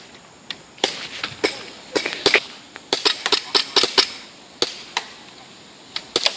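Airsoft pistols firing during a pistol game, many sharp snapping shots in irregular bursts, some close and loud, others fainter, with no talk.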